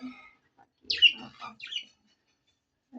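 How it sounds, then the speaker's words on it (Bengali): A small pet yellow bird gives a few short, high chirps and tweets, close by, separated by brief silences. "পাখি দেখেন, হলুদ পাখি, এটা পাখি"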